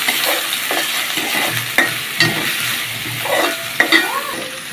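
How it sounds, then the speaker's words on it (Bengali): Onions and a bay leaf sautéing in a pan give a loud, near sizzle, with intermittent stirring scrapes and light clinks of the utensil on the pan, no voices. "এটা একটু কষাই নিতে হবে যাতে পেঁয়াজের গন্ধটা না থাকে।"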